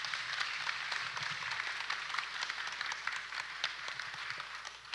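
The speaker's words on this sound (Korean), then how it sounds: "박수로 환영해 주시면 고맙겠습니다." Audience applause welcoming the mayor of Iksan at a civic policy concert, a steady crowd clapping that holds for the whole stretch, moderately loud with no talk over it.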